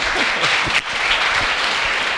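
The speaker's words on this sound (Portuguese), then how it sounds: "Dê uma salva de palmas para ele, pessoal." Congregation applauding in a church service, a loud, dense rush of clapping from many people filling the space, steady and continuous with a momentary dip partway through.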